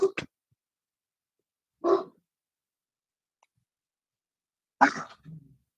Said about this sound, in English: Remy, no more barking.